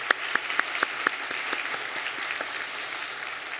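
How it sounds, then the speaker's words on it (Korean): A small church congregation claps steadily and close by, with a few sharp individual claps standing out before the applause softens and fades. "우리 박수로 격려하겠습니다."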